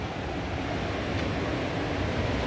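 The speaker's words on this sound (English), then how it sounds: "You can hear the soothing sounds of the ocean" Steady ocean surf rolls in below an oceanfront condo balcony in North Myrtle Beach at high tide, a continuous broadband wash mixed with wind rumble and no distinct wave breaks, with no talking.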